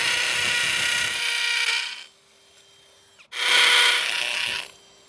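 A power screwdriver drives screws into a brick wall in two loud whirring bursts separated by a quiet pause, close up with no talking.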